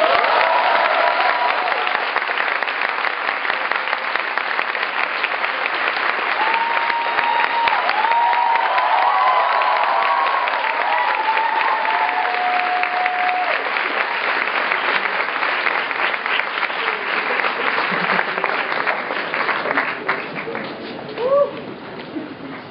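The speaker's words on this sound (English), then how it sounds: "please welcome with a round warm of applause one of the greatest educators in the generation" Sustained applause from a university lecture audience greeting the speaker, dense steady clapping for over twenty seconds with faint cheers and scattered voices, tapering near the end.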